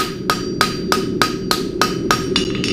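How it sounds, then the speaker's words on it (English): A blacksmith's hammer strikes metal on an anvil in a steady rhythm, about eight sharp ringing blows in under three seconds, while forging the scarves of a horseshoe for a heart bar shoe. "Most guys use the heel of the hammer to forge scarves in."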